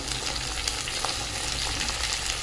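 Onion stalks, potato, eggplant and broad beans frying together in a pan give a steady, close hiss of sizzling oil with faint stirring scrapes, with no talking over it.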